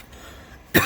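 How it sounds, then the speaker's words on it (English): A single close cough, brief and fairly loud, set off by rosin smoke while soldering during a repair of a Sanwa PM1723 arcade monitor chassis, following near-silence. "that is the rosin smoke that got me coughing just a little bit."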